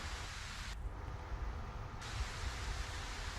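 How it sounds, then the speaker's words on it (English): Heavy rain falls in the survival sandbox game Ylands, a loud, steady broadband hiss that stays constant throughout with no voices. "Damn, that rain is loud."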